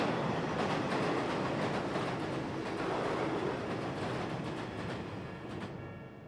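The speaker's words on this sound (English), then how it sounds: "The passing train gave me a moment to think about my response." Train passing close by with a dense, continuous rumble and rapid rhythmic clatter of wheels on rails, steady throughout and easing slightly toward the end, with no voices.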